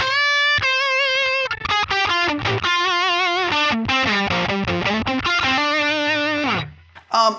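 A loud, gritty distorted electric guitar plays sustained notes and chords with a grainy fuzz, continuous for several seconds before cutting off.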